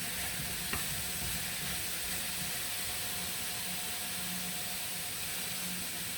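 Apples cook gently in a pan for an apple and raspberry crumble, giving a steady, quiet sizzle and hiss that runs unbroken throughout with no talking.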